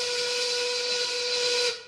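A single loud 1930s-style work steam whistle blows steadily for almost two seconds, a shrill hissing tone that cuts off abruptly.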